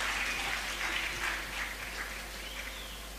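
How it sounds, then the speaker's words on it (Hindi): Applause from an audience at a speech competition award ceremony, a continuous, fairly faint and distant patter of many hands that eases slightly toward the end. "आपकी तालियां नहीं रुकनी चाहिए"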